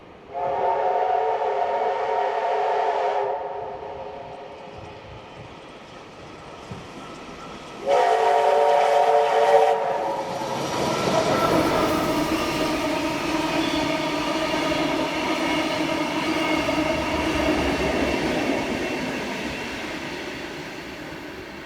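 Steam locomotive 3526 sounds two loud whistle blasts at the Hunter Valley Steamfest, New South Wales, then the train rumbles past steadily with heavy rolling noise.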